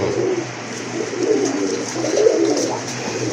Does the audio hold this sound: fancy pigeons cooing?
yes